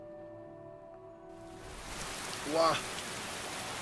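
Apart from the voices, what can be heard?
rain in video game Skyrim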